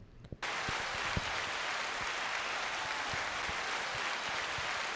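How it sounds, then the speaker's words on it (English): Dense, even applause fills the room after a brief quiet start, with a few sharper claps standing out through the steady wash of sound. "Applause coming."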